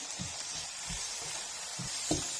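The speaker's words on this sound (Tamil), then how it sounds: "இதையும் ஆட் பண்ணி நல்லா வதக்கி விட்டுக்கலாம்" Soft, continuous sizzling of finely chopped tomatoes sautéing in a pan for chicken gravy, broken by a few low stirring scrapes at an uneven pace.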